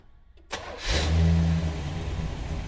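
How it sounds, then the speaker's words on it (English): A 1954 Chevy pickup truck engine cranks and catches, then revs up loudly and settles into a steady, rumbling run, close by with no talking. "fire the engine up"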